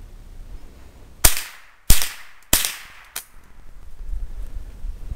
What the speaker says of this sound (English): so that's your Savage 22 long rifle, semi-automatic